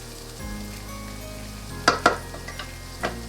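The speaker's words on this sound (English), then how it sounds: "we're gonna add the garlic. And saute for another minute or so" Garlic sautés gently in a pan for tomato and basil soup over medium heat, a soft sizzle with a couple of sharp clinks of a utensil against the pan and a later knock.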